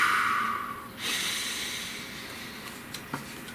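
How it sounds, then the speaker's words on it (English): A long, deep inhalation followed by an airy exhale close to the mic, with faint rustling and a soft click near the end. "Please take a nice deep breath."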